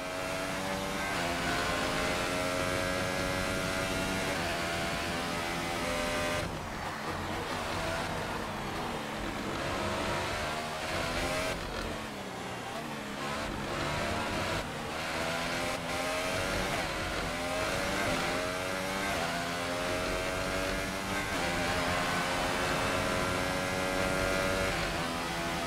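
A Williams Formula 1 car in F1 2018 at Britain screams at high revs throughout, its steady engine whine rising and falling through gear changes, close and loud with no pauses.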